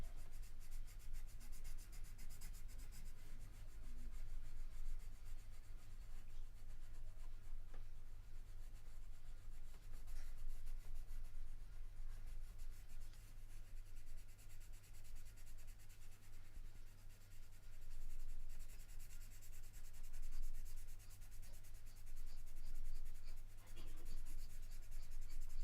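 Graphite pencil shading on paper during a live drawing lesson, a steady soft scratchy rubbing that runs continuously with the strokes kept moving, close and fairly faint over a constant low hum.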